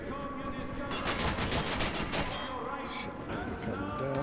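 Rapid gunfire from a shooting game about fighting Nazis and monsters rattles in steady close bursts, with game noise underneath and a player talking over it.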